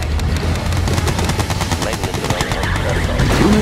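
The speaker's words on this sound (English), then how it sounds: "Let's take the gun for a spin." A machine gun fires in the Red Alert 2 Yuri strategy game, rapid continuous bursts of shots layered with other battle noise and a brief voice line.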